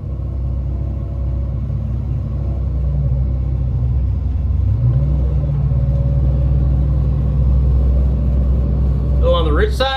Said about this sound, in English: The carburetor up and running.